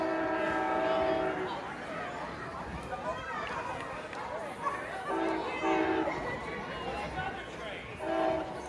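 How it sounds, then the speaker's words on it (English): Amtrak Northeast Regional 158, a passenger train bound for New York from Norfolk, arrives at Ashland, sounding repeated loud horn blasts over rumbling rails while people talk nearby. "Amtrak 158, Northeast Regional number 158"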